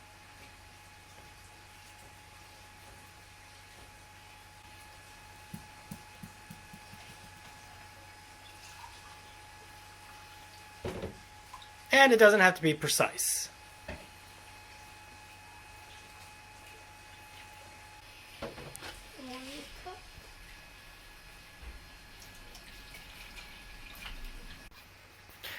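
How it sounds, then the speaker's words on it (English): Hot water runs from a kitchen faucet into a measuring cup in a burst of splashing and pouring for about two seconds, with a shorter trickle later, under a quiet room and a brief spoken remark. "You just turn the faucet on to hot."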